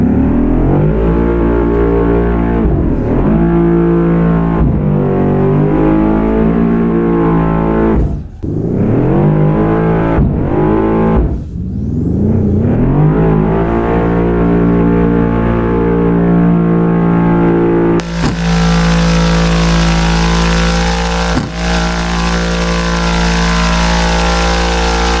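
A car engine in Assetto Corsa revs hard and drops repeatedly while drifting, loud climbing and falling engine notes with brief lifts between pulls, then a sustained high-rpm wail with tire noise.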